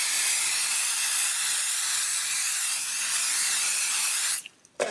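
A steady, loud hiss of an aerosol can of spray adhesive spraying continuously for several seconds, then cutting off abruptly near the end.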